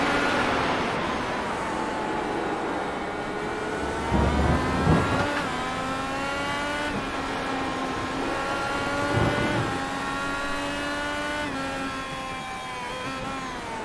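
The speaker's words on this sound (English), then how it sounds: "Right there where you hear that pitch kind of drop down for a second, and then the brakes, that is the idling part" In a racing video game on Road America, a race car engine whines loudly with rising gear-change sweeps, its pitch briefly dropping twice during braking and lift-off, before climbing again through the gears.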